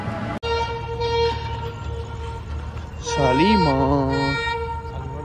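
A metro train rumbles steadily nearby, then a loud horn blares with a wavering, bending pitch for about a second before the rumbling continues.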